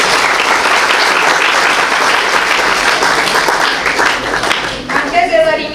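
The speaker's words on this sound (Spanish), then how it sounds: "Un aplauso" An audience at a university event for a Mexican satellite project gives sustained, dense applause that stays steady for several seconds and then tapers off.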